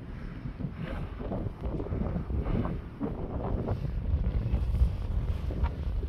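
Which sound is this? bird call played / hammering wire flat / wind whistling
wind whistling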